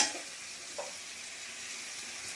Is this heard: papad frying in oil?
yes